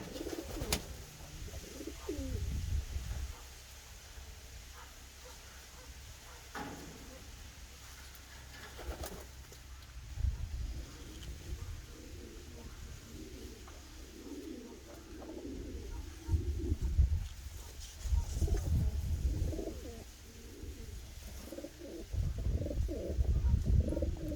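A pigeon in its molting period coos softly and somewhat distantly, in repeated low bursts spread across a quiet background with faint room noise.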